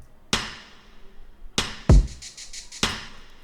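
Sampled percussive sound layered with a drum in a pop production, a few sharp hits spaced over the bar with a booming low thump and ringing tails, no voices.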